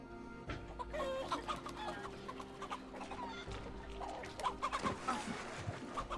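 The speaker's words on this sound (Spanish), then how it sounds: "Está borracho recorreteando gallinas." Chickens in Assassin's Creed Valhalla cluck busily and near, with repeated short calls running throughout over game ambience, with no talk.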